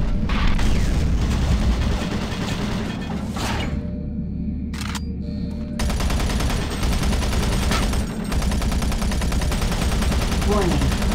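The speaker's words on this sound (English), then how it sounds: "Warning, automated turret guns online." Automated turret guns fire in the Doom 3 BFG monorail area: dense, loud bursts of gunfire with heavy booms, a brief lull midway, then sustained rapid shooting.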